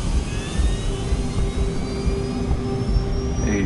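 DC-9 twin turbofan jet engines at takeoff power on a Hughes AirWest departure from Los Angeles, a steady loud roar with rising whine tones held throughout.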